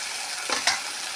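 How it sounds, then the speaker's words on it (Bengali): Chopped tomatoes dropped into a frying pan of hot oil, a steady sizzle broken by two short, louder bursts of hissing and scraping as they land, close up and without talk. "টমেটো কুচিয়ে রেখেছিলাম, কিছু টমেটো এখন দিলাম"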